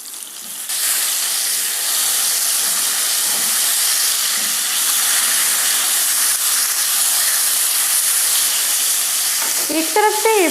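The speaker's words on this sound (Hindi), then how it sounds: "एक तरफ से ये फ्राई हो गया है, दूसरी तरफ से भी इसे हम फ्राई होने देते हैं।" Hilsa fish frying in hot oil, a steady loud sizzle with broad crackling hiss that runs continuously, with a brief clatter near the end.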